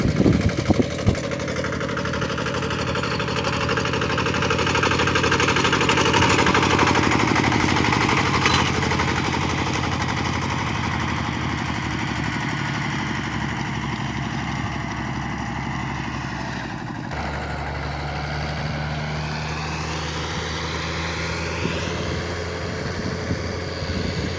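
A farm machine engine runs steadily in a rice field, a loud continuous drone with a low rumble that shifts in tone partway through, no voices.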